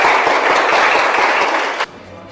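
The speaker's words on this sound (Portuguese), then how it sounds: "Aplauda Jesus." A congregation in church bursts into loud, dense applause that holds steady and then cuts off abruptly near the end.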